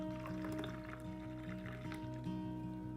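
Frothed mocha hot chocolate is poured into a mug, a soft continuous liquid fill with light trickling, faint against a steady background hum.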